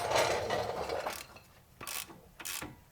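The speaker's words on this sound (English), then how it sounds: "these are 18 millimeter bolts, and they'll get torqued to 55 pound-feet" A hand ratchet tightens 18 mm bolts during a Toyota RAV4 lift kit install, a rough grinding rasp followed by two sharp clicking bursts, close up and without talk.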